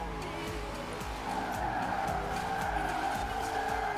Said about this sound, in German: Dieser Drift! Nein! Der Wandkontakt.